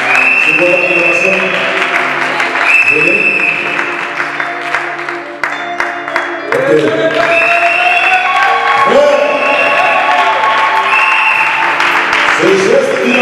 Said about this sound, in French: C'est votre acclamation.